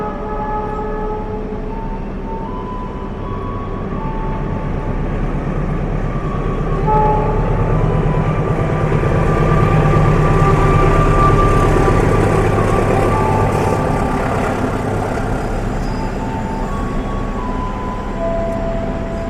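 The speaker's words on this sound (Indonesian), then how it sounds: "Yuk kita lihat kereta api Argo Semeru dulu nih, melintas langsung" Argo Semeru express train passing straight through a station without stopping, a loud steady rumble of wheels and carriages that builds toward the middle and stays sustained throughout, with a faint horn-like tone and no talk.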